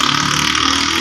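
A motorcycle engine runs steadily at night on a city street beside a shop, a constant close drone with no gaps or revving, fairly loud and without talk.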